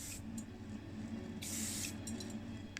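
Aerosol spray can laying a light coat of black primer on a Volvo 245 DL, heard as short airy hissing bursts with one longer spray in the middle, moderately close over low background hum.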